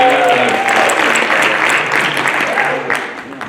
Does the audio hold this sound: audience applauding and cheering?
yes